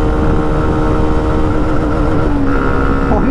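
A 2024 Hero Xtreme 125R motorcycle's 125cc engine drones loudly and steadily at speed in fourth gear, with a close, continuous hum and wind rush throughout.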